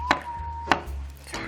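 A knife slices a banana on a cutting board in a home kitchen, giving three crisp, separate chops spaced evenly apart, close and clear.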